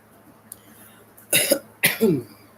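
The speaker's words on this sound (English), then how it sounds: "See, I cough sometimes." Two sharp coughs close together, preceded by a faint click, in an otherwise quiet room.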